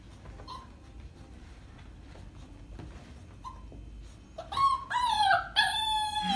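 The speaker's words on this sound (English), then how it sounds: "He's howling for the food." A beagle lets out several drawn-out, wavering howls that rise and fall in pitch, starting faint and growing louder near the end against a quiet room.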